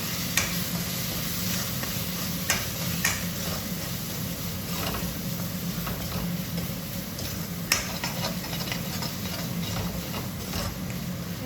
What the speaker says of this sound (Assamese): মই এতিয়া ভাজি লওঁ গোটেইখিনি মিক্স কৰি